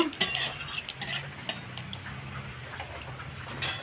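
Whole cumin seeds and three dried red chilies tempering in hot oil, stirred with a utensil that ticks and scrapes against the pan in soft, irregular taps over a faint sizzle.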